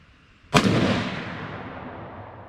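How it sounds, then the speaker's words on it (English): A single shot from a PSA PA10 Gen 3 rifle chambered in .308, a sharp loud crack followed by a long rolling echo that fades over about two seconds outdoors, with no talking. "Now let's shoot another one."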